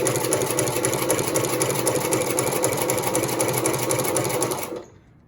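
Consew 29 cylinder arm lock-stitch sewing machine, a shoe repair and mending machine, running steadily with a dense mechanical stitching whir, loud and close, stopping abruptly near the end.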